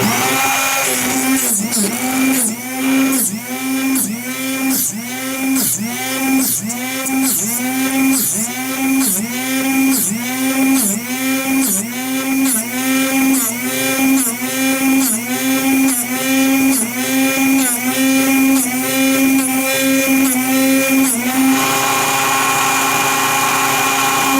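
An angle grinder sharpens the steel cutting edge of a never-sharpened mini excavator bucket, a loud whining pulsing in regular passes for about twenty seconds, then cutting off near the end.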